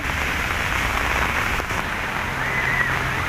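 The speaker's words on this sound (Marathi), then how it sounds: "लय पाऊस आहे" Steady, dense rainfall pours down throughout, a constant loud hiss of heavy rain with no voices.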